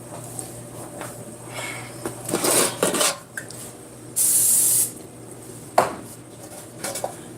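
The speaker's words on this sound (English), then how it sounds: "why I'm okay with spraying the bottom of that pan" Cooking spray hissing onto the bottom of a baking pan for a layered giant cookie chocolate cake, one longer burst alongside clinks and scrapes of pans and utensils at close range.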